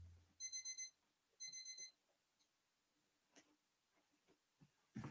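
An alarm clock goes off with two short electronic beeping bursts, each a quick series of bright tones, heard faintly in the background, followed by scattered soft knocks and a louder bump against a microphone.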